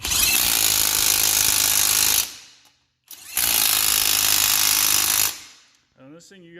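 A Matco 3/8-inch impact gun hammers nuts loose in two loud, rattling bursts of about two seconds each, separated by a short silence, followed by a brief voice.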